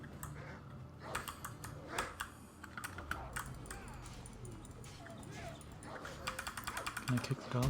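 A dog in the video game Assassin's Creed Odyssey gives a few short barks and whimpers, quiet and mixed into steady computer keyboard typing, with game sounds and soft spoken talk alongside.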